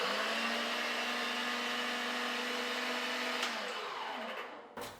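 A grinder churns raw cat food with a salmon capsule added, a loud steady motor hum with a droning tone that slows and winds down before cutting off near the end.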